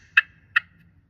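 A slate turkey call imitates a hen's curiosity call with two sharp, close pops about half a second apart, clear over a quiet background.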